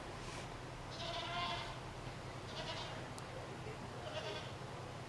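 Several market goats bleat at a livestock show, short nasal calls rising over steady crowd and hall noise, with faint voices in the background.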